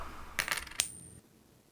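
A video-game coin flip: a quick burst of metallic clinks and a bright chime ring out, followed by a fading tone and silence, with no talking.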